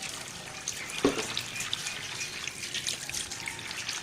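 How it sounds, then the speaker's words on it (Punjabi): Cold water pours steadily over a pot for distilling chicory extract, a continuous close splashing rush, with no talk. "ਹੁਣ ਅਸੀਂ ਠੰਡਾ ਪਾਣੀ ਉਹਦੇ ਉੱਤੇ ਸ਼ਾਮਿਲ ਕਰਨ ਲੱਗਿਆ।"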